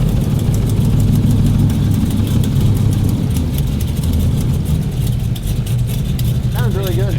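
A turbocharged engine idles loudly and steadily nearby with a fast, faint ticking from an exhaust leak running through the rumble; someone speaks briefly near the end.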